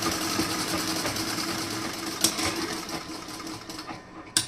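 Sewing machine running a double stitch, a steady fast mechanical whir with a few sharp clicks, close and alone.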